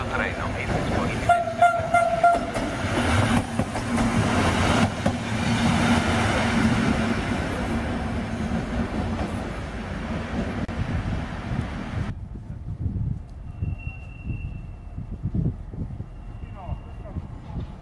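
Train pulling out of platform 3 at an Italian station, among 1970s-era diesel trains, with a loud rumbling, rolling roar over the first twelve seconds that then drops to a quieter hum, while a public-address announcement plays over it.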